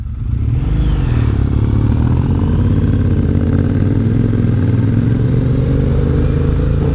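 A Triumph Bonneville motorcycle with new exhaust pipes rumbles steadily while riding, a loud, deep, continuous engine drone with constant throb throughout and no talk.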